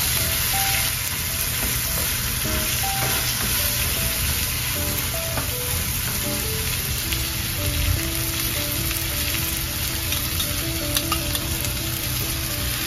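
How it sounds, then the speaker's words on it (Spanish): Steady close sizzle of a pan sautéing the base for a red bean stew with tomato purée, a continuous frying hiss with occasional faint stirring taps and no talk. "Estoy sofriendo un poquito, le voy a echar un poco de puré de tomate también"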